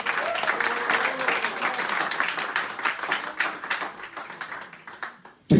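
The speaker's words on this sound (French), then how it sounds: "Applaudissez Jésus, applaudissez Jésus." A church congregation claps together, loud rhythmic applause with distinct hand strikes that gradually thin out and fade before a sudden burst at the very end.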